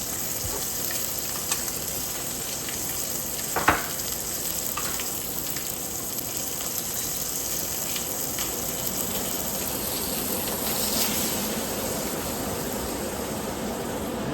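Meat sears in butter in a hot pan with a steady, close sizzle and crackle throughout, and a single light clink partway through.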